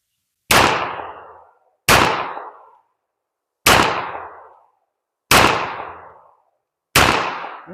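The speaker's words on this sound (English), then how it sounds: "So let's shoot this next 5-shot group and get this part of this test over with." Five sharp pistol shots in a slow string during a WWII-era pistol marksmanship qualification, each crack loud and close with a short decaying ring, spaced about one and a half seconds apart.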